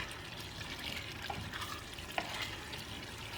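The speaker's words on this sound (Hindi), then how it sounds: "जिस टाइम पानी खुश्क हो रहा हो तो उसके साथ साथ भुनाई लगानी है" Beef keema mince is stirred and roasted in a pan as its water cooks off, giving a steady sizzle with occasional soft scrapes and clicks from the spoon, and no talking.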